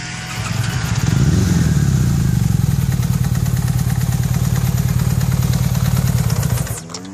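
A Honda Pilot buggy fitted with a GSX-R600 motorcycle engine revs hard, holding a loud, steady, buzzing high-rpm roar close by for several seconds before the throttle drops off at the end.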